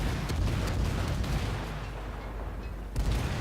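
A destroyer's high-explosive shells fire in rapid, booming volleys at a battleship in a naval combat video game. The salvos are loud and close, fade into a quieter lull, then crash back in.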